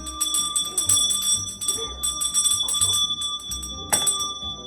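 A handbell rung outdoors by a woman passing through a residential street on moving day, a steady metallic jangling that carries on for several seconds with a brief louder strike near the end.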